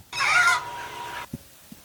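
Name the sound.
chickens clucking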